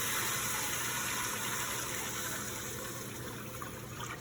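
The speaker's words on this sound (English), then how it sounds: "So what we're going to do is we're going to add our water. This is about 10 cups of water." About ten cups of water pour steadily into a pot of oxtail stew, a continuous rushing gush that is loud and close at first and eases slightly toward the end, with no talking.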